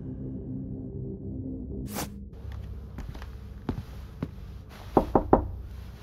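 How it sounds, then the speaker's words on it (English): Knocking on a door in the video game Evidence 111: a few sharp raps spaced apart, then a quick cluster of three louder knocks near the end, set against a quiet indoor ambience. "Should I knock on the door or just listen for a while?"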